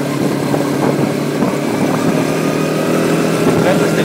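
A Yamaha motorbike and a Kymco Maxxer 300 quad drone and rev steadily nearby as they ride along, a continuous rumbling mix of motors.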